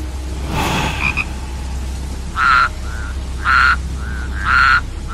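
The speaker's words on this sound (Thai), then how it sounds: "เหล่ากบเขียดออกมากันอย่างแซงแซ่" Frogs croak in the rain, with three loud, close, evenly spaced croaks and a few softer calls between them over a steady background hiss.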